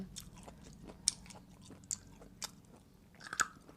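Crisp, close crunches of teeth biting and chewing crunchy pickled grapes, several sharp bites spaced across the moment with soft mouth sounds between, no talk.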